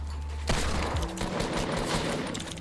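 A single sharp sniper gunshot from Fortnite gameplay cracks out about half a second in, then rings into a noisy decaying tail. It is fairly loud against quiet game background.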